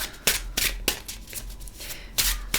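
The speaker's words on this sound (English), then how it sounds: "I promise I know how to shuffle cards" A deck of oracle cards is shuffled by hand, close up, in repeated bursts of riffling and sliding that come in an uneven rhythm with short pauses between them.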